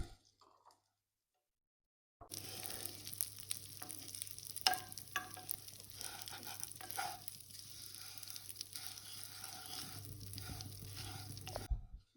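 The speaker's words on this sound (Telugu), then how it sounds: "కొద్దిగా మీడియంలో పెట్టుకొని కొంచెం గోల్డ్ కలర్ వచ్చే వరకు కలుపుతూ ఉండాలి." Vermicelli roasts in ghee for semiya payasam while being stirred, a steady soft sizzle with faint scraping that starts after a couple of seconds of silence and carries on quietly to the end.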